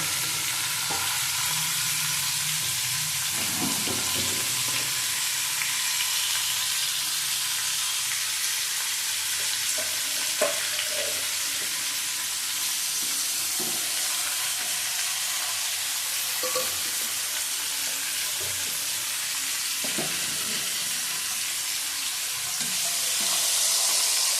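Steady hot-oil sizzle of pabda fish frying, with a few soft clicks and scrapes from a utensil; no voices.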